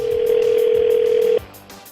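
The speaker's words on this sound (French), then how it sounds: "Ah, ça sonne." A steady single-pitch telephone ring tone holds for over a second, then cuts off, leaving quiet room noise.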